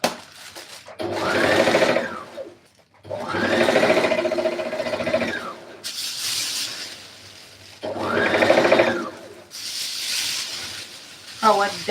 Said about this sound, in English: I'm sewing a blazer jacket.